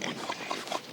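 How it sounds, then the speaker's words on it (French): Wild boars at a boar farm in the Outaouais region grunt and squeal in a dense, continuous chorus, several animals close by and fairly loud throughout the short stretch. "Des sangliers. C'est pas des cochons, c'est des sangliers."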